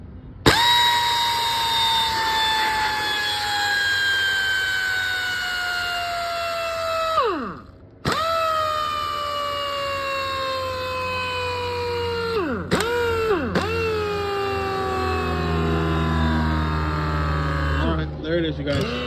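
An air impact tool spins freely on a Craftsman 3-gallon compressor, a loud whine that falls in pitch as pressure drains, cuts out briefly, then restarts in several long runs.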